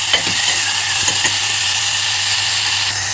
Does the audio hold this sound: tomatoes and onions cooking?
yes